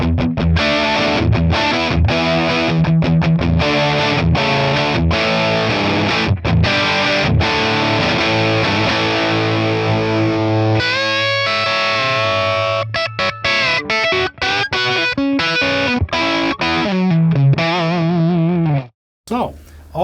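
Electric guitar played through a 1963 Fender Brown Deluxe amp with the reverb switched off, a driven, slightly distorted tone with strummed chords and picked runs, loud and close, stopping briefly near the end.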